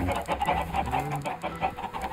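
Chickens cluck continuously in Minecraft, several birds overlapping in a steady, fairly loud stream of short repeated clucks with no talking over them.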